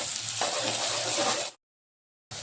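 Chopped onion sizzles in a hot pan with a little salt added while cooking a peanut and fenugreek leaf bhaji; a close, crackling fry with light stirring runs for about a second and a half, cuts to silence, then briefly returns.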